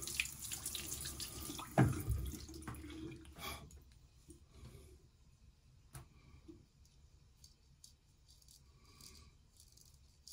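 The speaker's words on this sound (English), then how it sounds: "Let me rinse the blade." Tap water runs briefly as a vintage straight razor blade is rinsed during a wet shave, with a sharp clatter against the sink, then fading to faint drips and quiet handling noises.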